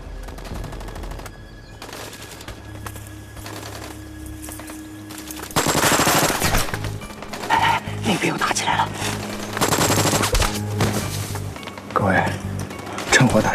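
Gunfire in a Chinese-dubbed military action film scene. Bursts of machine-gun fire and scattered shots stand out loudly over music and effects, and the firing grows denser midway through.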